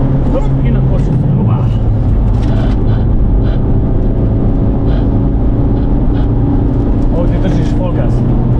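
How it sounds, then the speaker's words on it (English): A cheap, roughly $1000 beater car is driven hard at full throttle on the Nürburgring. Its engine roars loud and steady throughout, with road and wind rumble underneath and no break in the noise. "Ovdje držiš full gas."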